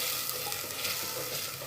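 Onion paste, three onions' worth, frying in a pan for goat head curry, giving a steady dense sizzle with soft stirring scrapes throughout, close and continuous with no talk.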